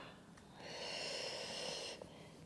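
A long, soft breath out through the mouth during a breathing exercise, a steady airy rush of about a second and a half, close but quiet.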